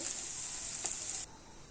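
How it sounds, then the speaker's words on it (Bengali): Beaten eggs with salt sizzle softly in hot oil in a pan, a faint steady crackle with one brief scrape before the sizzle drops away abruptly. "এইভাবে ডিমটাকে ভেজে তুলে নিতে হবে"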